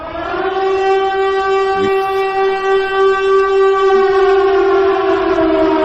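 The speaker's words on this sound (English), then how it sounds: "I'm doing the siren for the 2-hour warning, guys." A loud civil defense siren holds a steady, sustained wail with rich harmonics for several seconds, alone and close.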